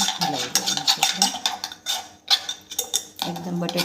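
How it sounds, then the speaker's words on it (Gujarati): Mashed potato mixture with Kashmiri chilli, salt and a little water being stirred in a pot for bateka bhungla, with close, repeated scraping and clinking of a spoon against the metal. "હલાવી દેવાનું."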